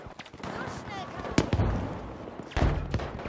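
Lee-Enfield sniper rifle fired in Battlefield V, heard as sharp loud cracks with booming tails, one near 1.4 s and another around 2.6 s, over busy battle ambience and background chatter.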